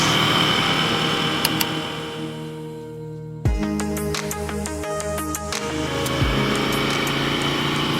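A motorcycle rides a rough mountain track near the Col de l'Homme Mort on Mont Aigoual, its engine droning steadily with a sharp gear-change surge partway through and wind noise throughout.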